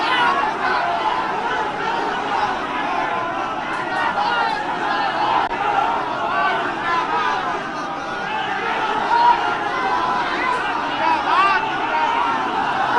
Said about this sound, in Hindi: समर्थकों की भारी भीड़ है।